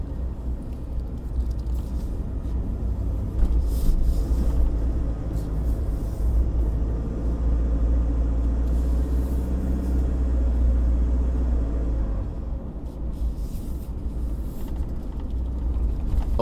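A 2021 Mitsubishi Triton Athlete pickup cruises in third gear, with a deep, steady engine and road rumble heard from inside the cab, swelling slightly and easing off with no talk.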